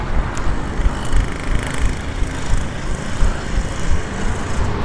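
An old, fast motorcycle once used as a racing bike, its loud, harsh engine noise droning steadily and close throughout, with no talking.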